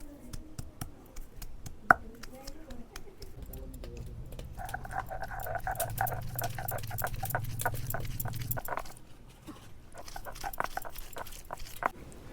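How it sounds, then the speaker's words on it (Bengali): Garlic and ginger paste being ground by hand on a stone slab (shil), with steady rhythmic scraping and pounding strokes through the middle stretch, then easing off into scattered knocks near the end. "চলুন এবার বাটনাটা বেটে নিই।"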